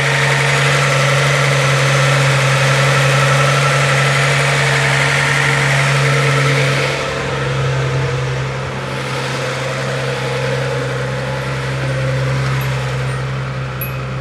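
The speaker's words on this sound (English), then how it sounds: "Yeah, now it's running closer to normal. It's not idling as high as it was." A Z car engine idles close by with a smooth, steady hum, its idle speed dropping slightly partway through and settling into a lower, even drone, with no talking.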